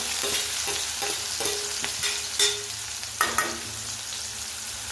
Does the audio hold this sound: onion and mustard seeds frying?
yes